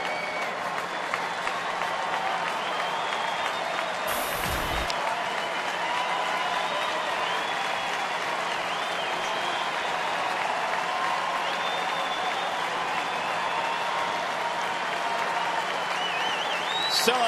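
A sellout crowd of about 40,000 at a Major League Baseball night game in Detroit stands and applauds, a dense sustained roar of clapping and cheering that holds steady throughout, with a broadcaster's voice talking over it.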